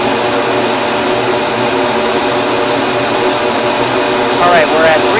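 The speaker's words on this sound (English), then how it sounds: "get the flow bench up to 300 CFM" A flow bench pulling 300 CFM of air through an AEM cold air intake on a Cobalt SS, a loud, steady rushing roar of airflow with a constant whine and no pauses.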